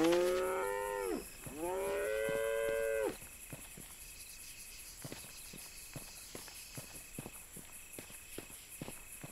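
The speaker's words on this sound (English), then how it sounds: "So now we've got like exploding cows and steroid infused chickens again." Cattle in The Bard's Tale video game letting out two long, loud mooing calls close by, followed by a string of soft, evenly spaced footsteps and faint crickets.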